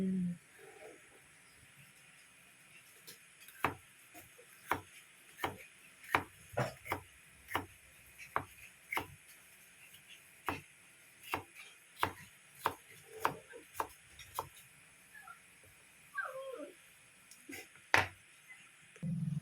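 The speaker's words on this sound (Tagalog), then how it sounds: "Hiwain muna natin ito bago tayo maggisa." A knife chops tomato, garlic and onion on a board with sharp, evenly spaced strikes, close and distinct, running in steady bursts with brief pauses and no talking.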